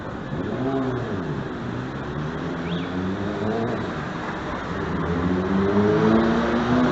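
A car pulls away, its engine note rising and shifting through the gears, fairly near, with someone talking over it.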